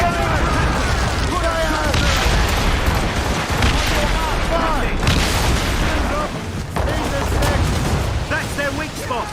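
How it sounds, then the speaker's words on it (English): Incoming mortar rounds explode in Assassin's Creed Rogue, heavy booms and gunfire bursts rolling one after another in a loud naval battle, with voices shouting over the din. "Mortars incoming"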